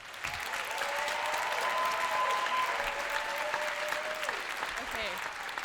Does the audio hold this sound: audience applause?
yes